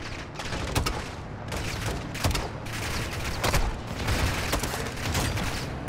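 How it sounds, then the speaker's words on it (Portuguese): Sustained automatic fire pours onto vehicles in Modern Warfare II. Loud, near bursts overlap with booms and mechanical clatter, with almost no pause. "Continua atirando nos veículos!"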